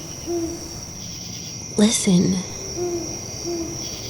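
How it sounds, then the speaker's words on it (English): An owl hoots repeatedly at night, each call soft and low and repeated at intervals, over a background drone of crickets. A single spoken word breaks in midway. "Suddenly the owl hooted again and again."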